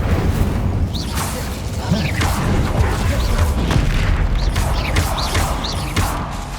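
Incendio fire spell in Hogwarts Legacy mid-fight against a mountain troll, with repeated loud booming bursts and whooshing blasts layered over dense combat noise and brief spell-casting shouts.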